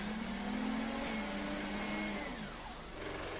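Robot Ron, a battery-powered combat robot with a titanium lid, drives with a steady whining motor hum that shifts pitch as it moves, loud and continuous.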